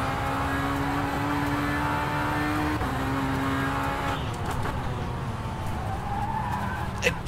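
A race car in the racing game rFactor 2 runs at steady high revs with a droning engine tone that shifts pitch as it accelerates, with tyre scrub and road noise throughout and a sharp tick right at the end.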